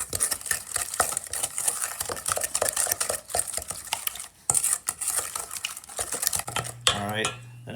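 Eggs and sugar are whisked together in a bowl for a creme brulee and bread pudding, giving steady, close scraping and clinking of a utensil against the bowl in quick repeated strokes, with a brief louder clatter near the end.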